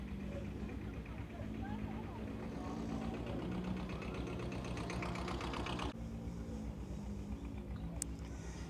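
A small 1955 tractor with an oversized exhaust pipe runs at a tractor festival, its engine holding a steady, even idling drone throughout, with voices faintly in the background.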